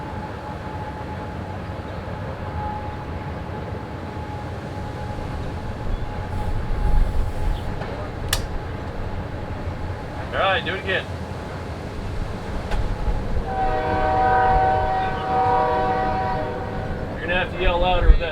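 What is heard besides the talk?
passing train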